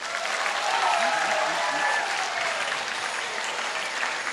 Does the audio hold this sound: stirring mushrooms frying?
no